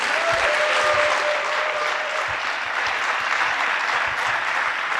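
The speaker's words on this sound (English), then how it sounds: "Let's give them all a round of applause." Steady, dense applause from a large audience at a corporate gathering for the office executive staff, a continuous wash of clapping at an even level with no talk over it.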